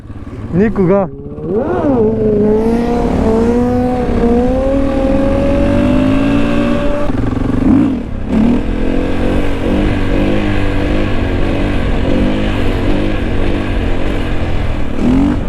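Motorcycle engine revving through rising and falling pitch sweeps as a rider on a new bike leans hard, loud and close, with someone speaking excitedly over it throughout.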